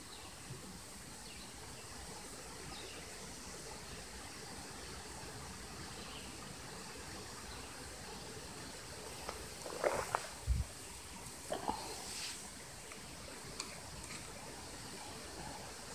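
Steady low rush of flowing water, constant and fairly faint, with a few brief splashes or knocks partway through.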